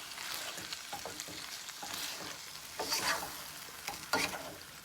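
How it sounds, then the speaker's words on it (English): Sloppy joe meat stirred together with ketchup in a pan, soft scraping and wet stirring strokes with a faint sizzle, quiet and close with no talk. "I'm going to mix that up and see how it looks."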